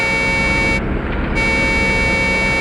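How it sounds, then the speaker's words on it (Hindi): A steady, sustained truck horn blares loudly for a couple of seconds without a break, with no voices. "हॉर्न भी बजा रहा है।"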